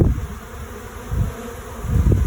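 A honeybee swarm in a back yard gives off a continuous, loud buzzing drone that swells and fades slightly, close by, with no voices.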